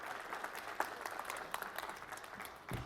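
Audience applauding in a hall as three volunteers join a mental-math performer on stage, steady moderate clapping from a crowd for a few seconds, slightly distant.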